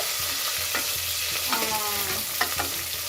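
Garlic and shallots crackle in hot tempering oil, a constant close sizzle broken by a few sharp spatters and spoon scrapes.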